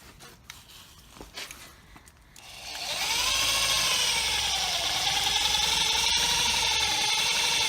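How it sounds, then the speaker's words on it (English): Power drill driving a step bit through a car's back panel during a coilover install on a Saturn S-Series: a steady, loud whining grind with a rising and falling pitch, starting after a few seconds of handling noise. "and just drill it out"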